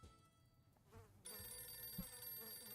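An in-game telephone rings with a steady electronic trill that starts abruptly partway through and keeps going, loud and unbroken, over faint background noise.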